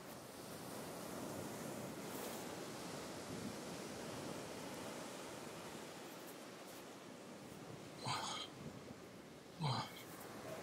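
Waves wash onto a beach in a steady, full roar of surf, with two brief louder surges near the end and no talk.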